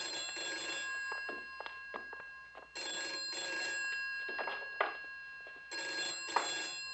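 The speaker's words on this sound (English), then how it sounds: "Your phone's ringing." An old telephone bell rings in three long bursts separated by pauses, clear and moderately close, with small knocks and shuffling in between.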